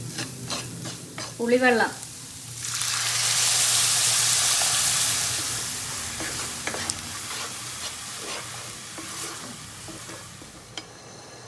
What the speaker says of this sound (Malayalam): മുളക് പൊടി, മഞ്ഞൾപ്പൊടി, ഉലുവാപ്പൊടി അതും ഇട്ട് നന്നായിട്ടൊന്ന് മൂപ്പിച്ചെടുക്കുക